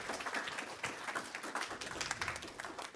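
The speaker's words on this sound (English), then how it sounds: "An applause for him." Dense, steady clapping from a conference audience at JuliaCon 2024, honoring a speaker after his talk; many hands patter fairly close and evenly for the full three seconds, with no voices over it.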